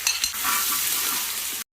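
Garlic-ginger paste sizzles loudly in hot oil in a pan for a Kerala-style chicken roast, a close, steady frying hiss with a few stirring scrapes at the start, then cutting off abruptly.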